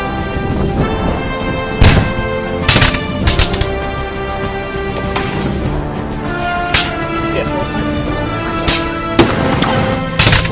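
Gunfire from a student-made action movie about soldiers, scattered sharp shots and short bursts over a music-like background, moderately loud, irregularly spaced across the scene.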